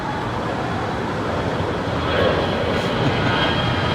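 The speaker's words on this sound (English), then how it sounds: "And this is Alaska Airlines Flight 220 heading to Puerto Vallarta. It is an A320." Alaska Airlines Airbus A320 at LAX, a steady broadband engine roar that swells slightly midway, heard at a distance with no talk.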